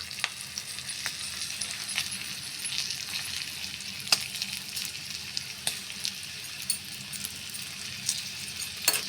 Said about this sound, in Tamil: இங்கே வந்து எண்ணெய் ஊற்றி கடுகு, கடலப்பருப்பு, உளுத்தம்பருப்பு, ஒரு 4-5 பச்சை மிளகா, 2 காஞ்ச மிளகா, கருவேப்பிலை, மஞ்சள் பொடி போட்டிருக்கு